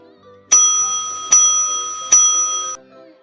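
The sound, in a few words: school bell ringing for break time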